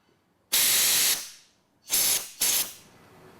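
Aerosol carburettor cleaner sprayed onto the needle and seat of a Tryton Comer Cadet carb gives three loud, close hissing blasts: a long first spray, then two shorter ones after a pause.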